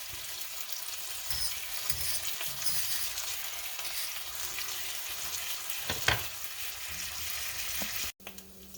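Beef round steaks fry in a pan with a constant, crackling sizzle close up, broken by a brief clatter near the end.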